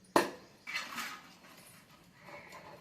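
A rice scoop clatters against a pot while rice is layered into a boti (tripe) dum biryani cooked over a wood fire: one sharp metallic knock, a second softer scrape-knock, then faint rustling.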